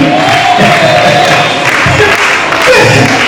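A church congregation at a Pentecost seminar applauds, a dense, loud wash of many hands clapping with crowd noise and cheering, continuous and close throughout.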